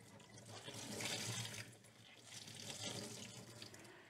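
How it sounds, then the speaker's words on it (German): A floor mop pad rinsed under a running tap, steady splashing water in two broad surges, close and fairly loud, with no speech. "ich spüle ihn einfach nur mit Wasser aus."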